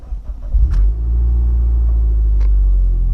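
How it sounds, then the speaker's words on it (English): A car engine cranks and catches, then settles into a steady, loud, low idle rumble close by, with no talking. "So since I just started the car, it just kicked me out."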